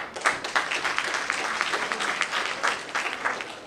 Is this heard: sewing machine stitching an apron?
no